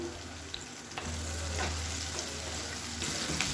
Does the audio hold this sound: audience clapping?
no